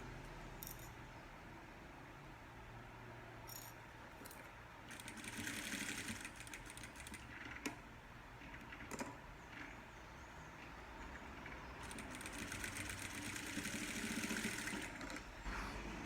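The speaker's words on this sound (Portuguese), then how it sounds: "Pode ser uma costurinha de pezinho de máquina, porque tá na orelha e a orelha é mais larga que o pezinho." A domestic sewing machine stitches fabric for a tea towel in steady bursts of fast mechanical whirring, starting and stopping a few times, fairly close with no talk.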